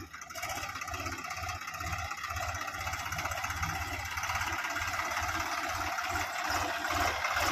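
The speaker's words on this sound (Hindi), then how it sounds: "लाइए ट्रैक्टर को" A tractor engine idles steadily near a brick kiln in rural Rajasthan, a low rumbling drone with a continuous mid-pitched throb that holds at a constant, moderately loud level throughout.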